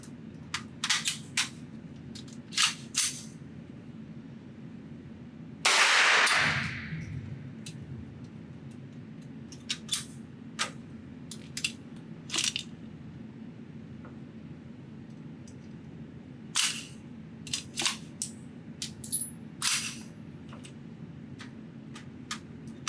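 A single loud gunshot from an AR Five-Seven upper at a shooting range, distant and echoing, set among scattered faint ticks and clicks against steady background hum.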